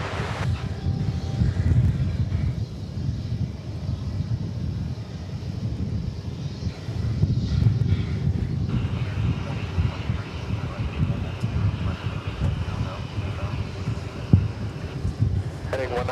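An American Airlines jet near DFW Airport gives off a low, sustained engine rumble, heard at a distance and mixed with gusty wind buffeting the microphone for the whole stretch.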